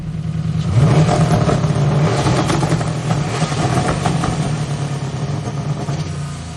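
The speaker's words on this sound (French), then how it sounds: "c'est le moteur qu'il a mis dans sa voiture de drift. Avec un turbo." A turbocharged drift car engine revs loudly and steadily nearby, rumbling and climbing in pitch without any voices.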